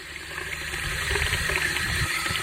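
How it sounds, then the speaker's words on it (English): Water rushes steadily from a high-flow valve on a cattle water fountain, a continuous close splashing and gurgling that builds slightly and carries on without pause. "It'll flow as much water as you can get to it."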